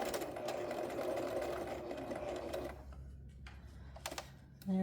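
A Baby Lock BL 1556 sewing machine stitches at steady speed with a continuous close whirring and rapid needle clatter, then stops and leaves a few soft clicks and handling noises.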